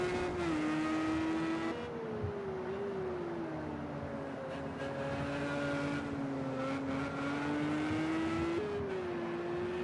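Porsche Supercup race cars circling Le Mans in the Project Cars 2 racing game, engines droning at sustained high revs with shifting pitch and small gear changes, loud and continuous with no talk.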